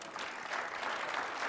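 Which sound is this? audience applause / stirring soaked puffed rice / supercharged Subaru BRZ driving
audience applause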